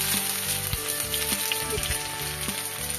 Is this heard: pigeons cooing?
no